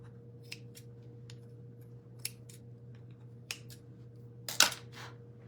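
Scissors snip through chenille for a vintage snowman craft, several crisp separate cuts spaced a second or so apart over a low steady hum, the last cut louder and closer.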